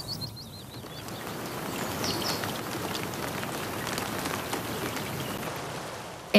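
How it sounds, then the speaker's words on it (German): A rain shower falls outdoors in late August after a long dry spell, with a steady patter of drops on surfaces, moderately faint, and a few bird chirps early on. "Die ersten Regenschauer nach einer langen Trockenzeit."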